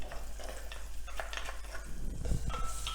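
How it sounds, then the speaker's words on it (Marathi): Garlic and dried red chilli roasting in oil over a low flame, a continuous soft sizzle with a few light stirring scrapes, close and moderately quiet, with no talking. "लसूण पण छान खमंग भाजून घ्यायचं आहे"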